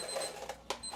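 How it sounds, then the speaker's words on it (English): An oven's temperature alarm beeps indoors, a few short electronic tones standing out over a low steady background hum. "that's my temperature alarm on my oven."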